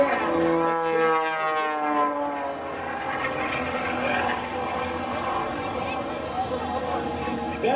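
An aerobatic airplane flies at an airshow, its engine droning steadily throughout as it comes out of a spin, with an announcer talking over the sound.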